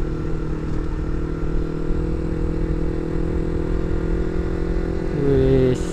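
A Yamaha MT-25 motorcycle fitted with an R9 exhaust idles with a steady, loud, throbbing engine note up close, then gives a brief rev near the end.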